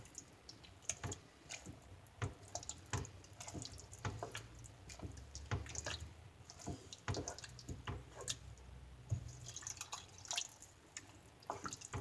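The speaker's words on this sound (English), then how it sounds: "I usually put a can of water in afterwards" Water is poured from a can into a pan of lasagne sauce, giving soft liquid splashes and drips with scattered wet clicks, quiet and close, with no voices.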